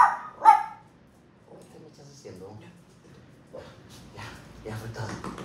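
A small dog gives one sharp yip near the start, then quieter rustling and murmured speech follow in a home setting.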